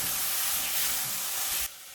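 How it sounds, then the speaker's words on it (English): Rough-chopped cucumbers hitting a hot pan, a loud steady broadband sizzle and hiss that cuts off abruptly near the end, with no voices. "now we're going to add 2/3 of the rough chopped cucumbers"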